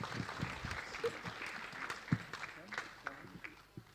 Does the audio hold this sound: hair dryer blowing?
no